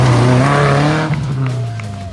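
A modified car on a trial competition course at the final stage of the Georgian open championship, its engine roaring loud and close with a steady, slowly falling pitch and a touch of tyre squeal.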